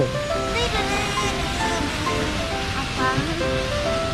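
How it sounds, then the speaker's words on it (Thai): Water splashes and rushes at a water park near a campsite area in Saraburi, Thailand, as a steady wash of spray with voices and bright tones mixed in. "น้ำกระจายอีกแล้ว"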